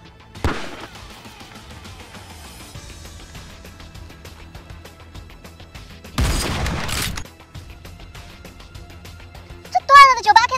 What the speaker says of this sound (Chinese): 这断了的98K 怎么这么厉害？ 还能连发三颗子弹？